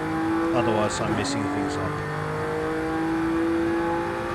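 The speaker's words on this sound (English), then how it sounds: "it has a magnificent engine sound, the V6" A 2018 Audi RS4 Avant with a V6 engine revs in Forza Horizon 5, its loud steady engine drone running throughout with a brief shift in pitch, while a person talks briefly over it.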